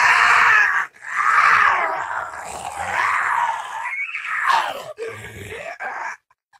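A distorted, monstrous robotic scream from a video game animatronic rises and falls in several loud, warbling bursts with short breaks, ending abruptly.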